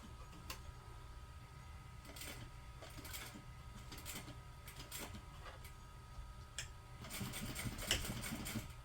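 A sewing machine stitching over thick side seams of a large tote bag, giving quiet, uneven bursts of rapid mechanical ticking and clatter with short pauses, growing busier toward the end.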